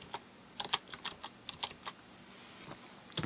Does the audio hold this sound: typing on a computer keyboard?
yes